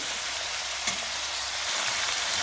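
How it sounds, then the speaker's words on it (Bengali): Prawns fry in hot oil on a high flame, giving a loud, continuous sizzle with a brief scrape or stir partway through and no talking. "এবার এর মধ্যে আমি চিংড়ি মাছগুলো ছেড়ে দিলাম চিংড়ি মাছটা আপনারা হাই ফ্লেমে দিয়েই ভাজবেন"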